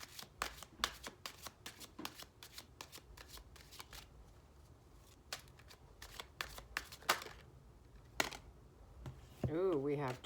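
Crystal Wisdom Healing Oracle cards are shuffled in rapid riffling bursts and crisp flicks, close and quiet, with a brief voice at the very end.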